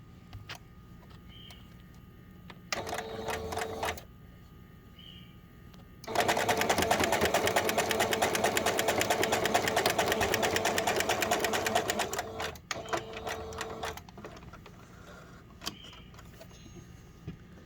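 A sewing machine stitches fabric in short bursts, with a brief run, a pause, then a long steady whirring run of about six seconds followed by another short burst, close and fairly quiet.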